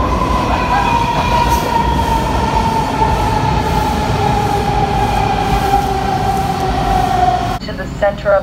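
A Boston Red Line subway train runs loudly with a continuous roaring rumble and a long, slightly sliding wheel squeal, and the sound drops abruptly near the end as it quiets.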